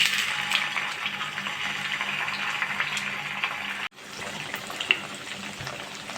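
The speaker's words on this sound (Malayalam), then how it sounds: "എണ്ണ ചൂടായി വന്നിട്ടുണ്ട്. ഇതിലേക്ക് ചിക്കൻ പീസ് ഇട്ട് കൊടുക്കാം." Chicken pieces drop into hot rice bran oil for restaurant-style chilli chicken and fry with a steady, close sizzling hiss. A short break comes near the end, then the crackle continues.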